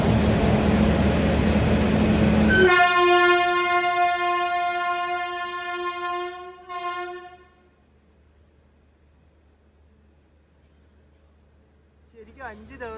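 Navyug Express sleeper train on the Katra to Tirunelveli run: a loud rolling rumble gives way to a long, steady horn blast lasting several seconds, which cuts off into near silence.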